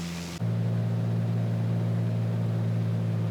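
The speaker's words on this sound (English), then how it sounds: "You can hear the power coming back" Simulated light aircraft engine in Microsoft Flight Simulator 2020 as power is pulled back after leveling off in the traffic pattern, a sharp drop from a higher roar into a steady lower droning hum.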